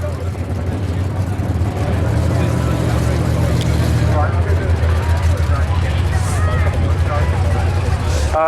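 Car driving through at a no-prep drag race at North Weald, a steady loud engine drone heard from the crowd, with a commentator talking over it and crowd chatter throughout.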